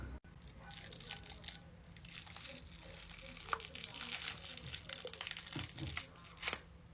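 Close, crinkly peeling and tearing sounds, like rubbery material being pulled away from skin, continuing with brief rustles and soft voices.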